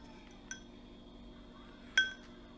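A spoon stirring lemons in a glass gives two light, quiet clinks about a second and a half apart, over a low background hum.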